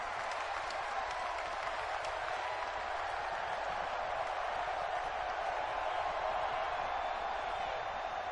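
A video game football stadium crowd roars in a broad, steady wash of cheering and applause, sustained evenly and fairly distant throughout.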